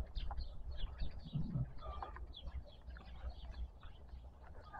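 Native chickens on a rural farm where sheep and goats are kept, clucking and chirping continuously at mid distance over a steady outdoor background rumble.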